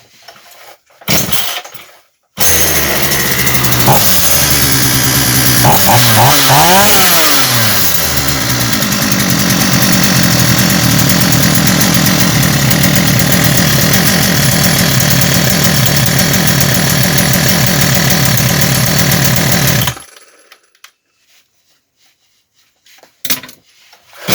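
Forte FGS41-16 petrol chainsaw, leaking fuel at refuelling, pull-started and then held at loud, steady high revs for about seventeen seconds, a dense continuous engine roar that cuts off abruptly, with a few faint knocks before and after.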